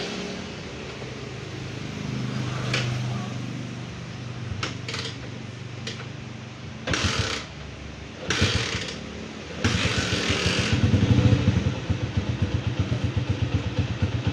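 A motorcycle engine being checked for misfiring idles nearby, then revs in several short bursts, ending in a rougher, louder run with clattering mechanical noise.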